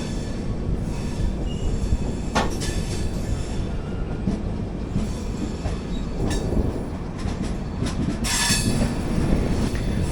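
The 20909 Porbandar Express runs toward Shoranur Junction, a loud steady rumble of rail cars heard from on board, with wheel squeals and sharp clanks rising over the roar.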